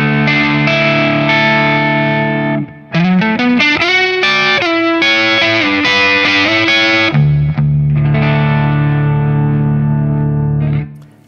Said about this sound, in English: I'm in the neck pickup there, really nice and warm